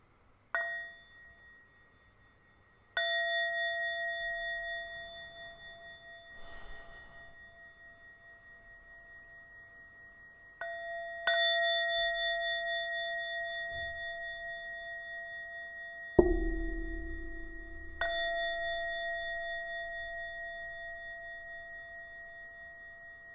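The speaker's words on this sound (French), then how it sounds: "des sons de cloche." Four resonant struck bell or singing-bowl tones ring out one after another, each with a sharp strike and a long sustained shimmering decay, spaced a few seconds apart in a quiet setting paced for deep breathing.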